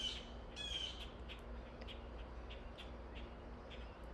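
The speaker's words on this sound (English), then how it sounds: "the birds are now starting to come alive. Sounds like a lot of hawks, or not hawks, crows." Crows calling outdoors at dusk, a few distant caws and squawks standing out over a quiet evening background with scattered faint chirps.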